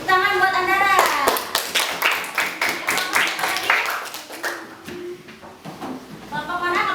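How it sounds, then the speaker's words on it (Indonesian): Children in a classroom clap together in a quick burst of sharp, close handclaps that thins out toward the end, with a voice and some talk before and after. "Tepuk tangan buat Andara."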